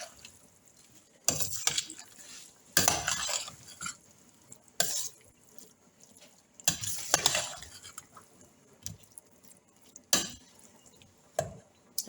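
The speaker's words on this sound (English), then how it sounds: "I'm going to mix everything together." Ingredients for chicken dodo, a chicken and plantain dish, are mixed together in a pot. Irregular bursts of scraping stir strokes alternate with short quiet gaps and a faint sizzle underneath.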